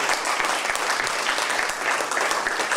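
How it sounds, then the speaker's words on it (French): Sustained, dense applause from an audience at a cultural gathering in Bussy fills the space evenly, with no lull and only faint voices mixed in. "On peut les applaudir."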